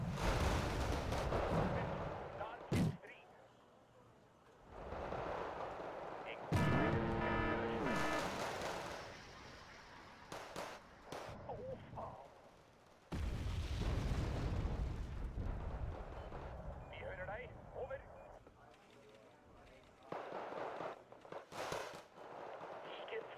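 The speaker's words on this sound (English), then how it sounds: "I'm just getting shot at while I can't even spot them." Gunfire strikes a tank in a video game tank battle, with heavy booms, sharp impacts and rumbling engine noise coming in loud bursts between quieter stretches, and a player talking over parts of it.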